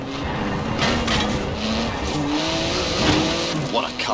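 In the Forza Horizon 4 video game, a sports car with a 3.8 litre twin-turbo flat six engine of 700 horsepower drones steadily. The engine note holds through the clip with brief shifts in pitch, and a voice talks over it.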